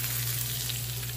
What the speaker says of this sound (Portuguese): Tá fritando, tá vendo?